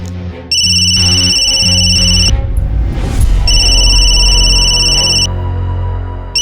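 A telephone rings loudly with an electronic repeating tone, two long ring bursts separated by a short gap, heard alone in a Hindi drama scene without talk.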